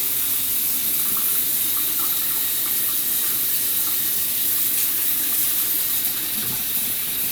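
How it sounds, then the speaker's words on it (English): Tap water pours continuously into a sink while hands are washed beneath it, a steady close splashing hiss with small shifts in the flow and no voices. "I'm gonna go ahead and wash it off my hands."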